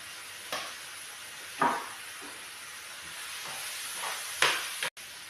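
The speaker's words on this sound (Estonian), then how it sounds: "Vahepeal praeme sibulad ära." Sliced onions sizzle softly in a frying pan, a quiet steady hiss broken by a few sharp bursts as they are stirred or tossed.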